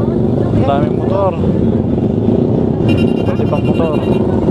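Motorcycles in a large club group ride in Bohol, including an RS150, rumble steadily and loudly close by, with voices speaking over the engine drone.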